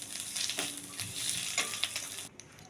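Khar kol leaf paste fries in a pan while being stirred, a soft continuous sizzle broken by scraping strokes of the spoon, fairly quiet and close, cutting off abruptly near the end.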